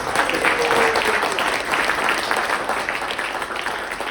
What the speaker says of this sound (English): let's give a round of applause for someone presenting